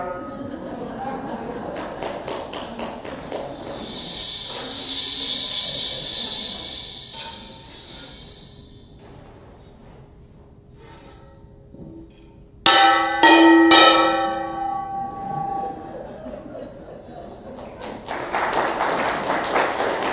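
A musical performance uses an outsized auto horn, horse-harness jingle bells and a resonant frying pan, heard as a sustained bright jingle followed by sharp metallic strikes that ring with overtones, then a busier passage.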